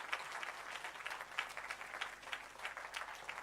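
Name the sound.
audience applause for symposium panelists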